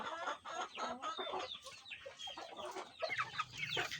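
Backyard heritage-cross chickens cluck and chatter continuously, several birds close by with busy, overlapping calls, fairly faint overall and without any talking.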